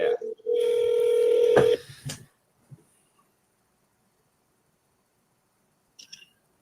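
A phone call being placed back: a loud electronic tone holds steady for over a second, then cuts off, followed by a few faint clicks and a brief beep later.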